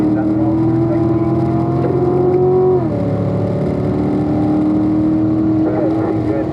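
Corvette engine pulling under throttle on a road-racing track, loud steady in-car drone with a pitch that climbs, drops at a shift, then holds steady again.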